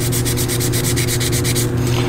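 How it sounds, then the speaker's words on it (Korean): Stick sandpaper of 400 grit rubbed back and forth over a hard surface, giving a steady rhythmic scratching of about ten close, even strokes with no talking. "자, 이 부분을 한번 갈아볼까요?"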